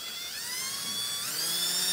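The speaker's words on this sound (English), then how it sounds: "This one, to start, is 9/64 inch drill bit. 9/64. To blow the rivet off." A small drill with a 9/64 inch bit boring out the rivet of a diecast toy car, giving a steady high-pitched whine that shifts in pitch as it cuts, heard alone and fairly close.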